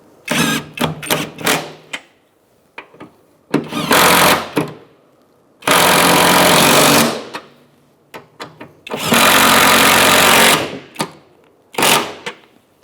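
Impact wrench or power ratchet snugging strut top nuts on a 2002-2006 Toyota Camry front strut assembly, loud repeated bursts of a few seconds each separated by pauses, with short clicks between.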